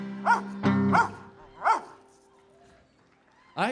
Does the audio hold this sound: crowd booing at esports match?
no